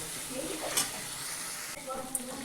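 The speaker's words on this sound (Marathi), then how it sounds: "हे वाटलेलं मिरची आणि लसूण हे टाकून घेते त्याला चांगलं मिनिटभर परतून घ्यायचं" Ground green chili and garlic are sautéed with tomato in a pan for methi bhaji, a soft, continuous sizzle heard up close with a few faint stirring scrapes.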